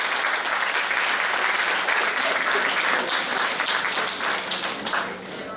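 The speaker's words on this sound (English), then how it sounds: "Please give them a big round of applause." An audience at a laboratory inauguration ceremony in a medical college hall claps steadily in a full, even burst of applause that fades slightly toward the end.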